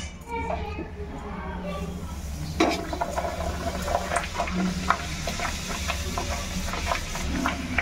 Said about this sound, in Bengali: এবার তেলের মধ্যে ঝপং করে দিয়ে দেবো।